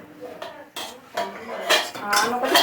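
Lentils tipped into a pot of fried onions in a village kitchen, with clanking metal, scraping and a few sharp knocks of utensil against pot in irregular bursts, close up.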